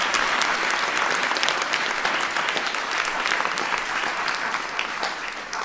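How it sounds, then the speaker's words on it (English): An audience at a presidential event applauds, a dense, steady wash of clapping that stays loud and close throughout before easing slightly at the end. "So give Anirudh a big round of applause."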